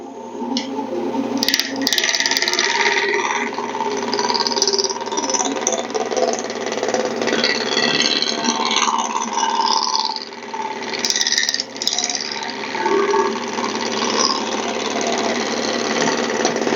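A wood lathe turns a rough spindle blank round, its steady motor hum carrying a continuous scraping cut from the tool, with brief sharp catches and knocks; close and unbroken, no talk.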